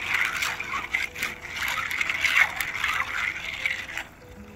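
Ginkgo nuts are stirred and washed in water, giving a continuous close sloshing and splashing with a soft gurgle. Low speech runs along under the water sounds.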